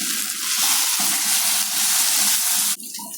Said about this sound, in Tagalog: Ilagay na po natin yung ating soya chunks or meal maker.